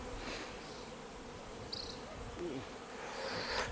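Bees hum around a hive being set up for a new queen in Jamaica, a steady insect drone filling the scene with a few louder passes close by.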